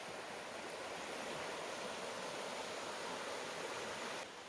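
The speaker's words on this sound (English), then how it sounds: "there's another brook right here that runs into it on the other side" A brook at a campsite on the Appalachian Trail rushes in a steady, broad wash of running water, constant and unbroken, with no voices over it.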